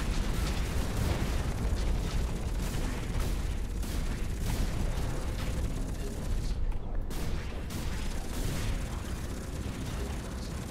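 Missile and weapon fire from mechs in the multiplayer game Hawken, a dense, continuous barrage of loud blasts and mechanical noise with repeated bursts throughout, no talking.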